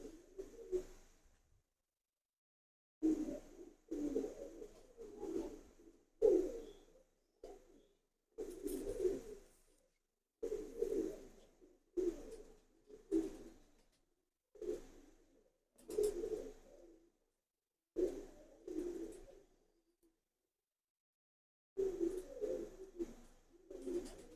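Repeated soft, low coos of Ferozpuri pigeons in short bursts separated by brief pauses, fairly close and steady, with no talking.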